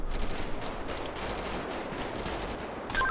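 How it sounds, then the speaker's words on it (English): Police officers open fire in a GTA roleplay game, producing a rapid fusillade of overlapping gunshots that rattle on without pause for a few seconds, loud and dense, with no one speaking. "We're opening fire on him"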